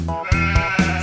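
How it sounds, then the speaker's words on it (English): A sheep bleats three times in quick succession, each a loud, wavering, nasal cry with short gaps between, close and clear with nothing else audible. "Sheep."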